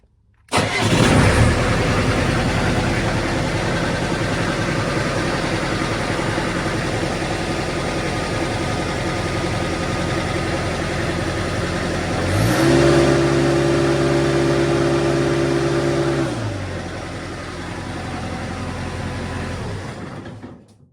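A Bobcat skid steer with repaired wiring cranks and its engine catches, then runs at a steady idle with a brief rise in revs before settling and shutting off.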